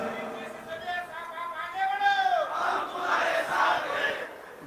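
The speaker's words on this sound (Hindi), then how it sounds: "फिर से हाथ ऊपर करके एक बार तालियों की गूंज होनी चाहिए" A crowd at a school inauguration in Mumbai attended by Manish Sisodia cheers and shouts loudly together. Voices swell into a sustained roar for several seconds.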